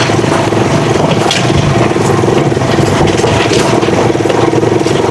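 A Rusi TC150 motorcycle engine runs steadily during a test drive, with a loud, close, continuous rumble and dense, even throbbing and no letup throughout, mixed with wind buffeting.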